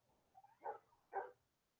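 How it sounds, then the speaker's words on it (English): Dogs bark outside, two short muffled barks heard faintly at a distance through a window in a quiet room, following a couple of softer yips. "We got dogs out there."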